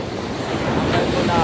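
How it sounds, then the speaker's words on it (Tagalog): Sea waves wash steadily onto the shore, with a loud, constant surf roar and wind buffeting the microphone throughout. "tambay muna kami dito sa may dagat"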